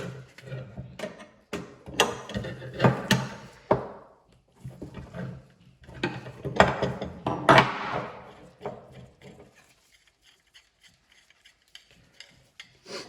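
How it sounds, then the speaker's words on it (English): Two metal spanners unscrew a probe from a TORS surgical system during disassembly, giving scattered close clunks, scrapes and ratcheting clicks in uneven bursts with short pauses, fading to faint taps. "Unscrew the probe with the two spanners."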